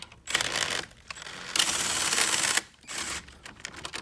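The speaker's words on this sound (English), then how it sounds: "I'm using the 10mm socket. We're gonna go up to the positive." A 10mm socket wrench with a ratchet loosening the positive terminal of a car battery on a Ford Fiesta, giving several close bursts of rapid clicking, one longer run in the middle, separated by short pauses.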